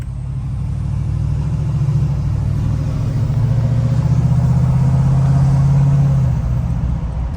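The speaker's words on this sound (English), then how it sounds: "Okay, engine brakes coming on here through the trees." A tuned 2020 Ford 6.7 Powerstroke pickup with a 5-inch exhaust, towing a Big Tex gooseneck dump trailer downhill, with its exhaust brake engaged: a loud, steady, deep rumbling drone that swells slightly and holds throughout.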